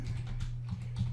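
Keyboard typing while labelling a layer in Photoshop CC 2018: a short run of soft, close key clicks over a steady low hum, with no voices.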